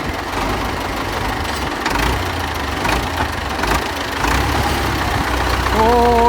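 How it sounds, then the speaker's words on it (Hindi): A tractor runs in a village near Karachi, Pakistan: a steady low mid-range engine chug holds loud and close throughout, with faint background voices and a brief high tonal whine near the end. "तो ट्रैक्टर जो है वो चल पड़ा है"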